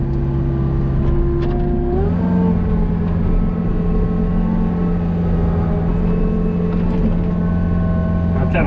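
Takeuchi TB153FR compact excavator digging with its blade hanging over the edge, its engine droning steadily and loudly close by, with a brief rise in revs partway through and hydraulic strain throughout.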